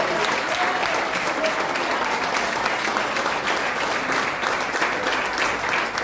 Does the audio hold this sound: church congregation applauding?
yes